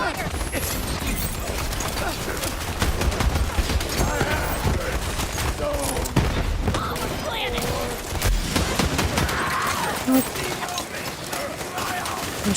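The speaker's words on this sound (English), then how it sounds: "Give me some cover fire!" Continuous video-game gunfire laying down cover fire, a steady rattle of shots running throughout, heard beneath frequent excited talking.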